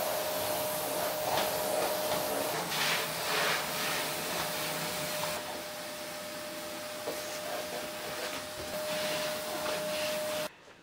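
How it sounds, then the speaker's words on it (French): A vacuum cleaner running upstairs in a home during housework drones steadily with a constant whine, shifting slightly as it moves and cutting off abruptly just before the end. "Là, je vais aller passer l'aspirateur à l'étage."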